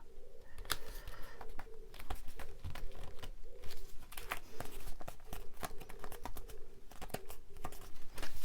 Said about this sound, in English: You hear those pigeons cooing, probably cooing at each other.